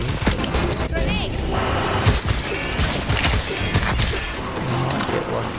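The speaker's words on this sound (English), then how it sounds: "Grenade" A grenade blast goes off amid constant loud gunfire and combat noise in the co-op shooter game Second Extinction, with a burst of crashing impact partway through a dense, unbroken barrage.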